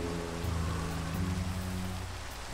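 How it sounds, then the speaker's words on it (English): Rain falls steadily in the video game Minecraft as a constant soft hiss, with low tonal hum from game music or ambience underneath and no talk. "it can stop raining anytime now"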